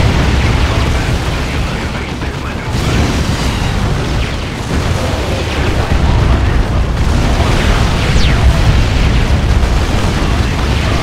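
Repeated missile explosions hit a war boss in the real-time strategy game Dawn of War 2: Retribution, a dense, continuous barrage of booms and bursts layered over battle noise with speech under it throughout.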